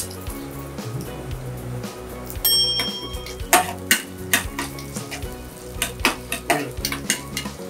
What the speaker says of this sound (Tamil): இப்போ தாளிப்புக்கு நம்ம நெய் ஊற்றி தாளிச்சுக்கலாம்.